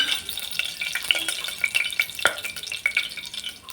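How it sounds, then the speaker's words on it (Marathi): Cumin seeds crackling and spitting in hot oil in a pressure cooker, a dense run of sharp pops and snaps over a bright sizzle, close and fairly loud, with no voices. "तडतडत आहे जिरं"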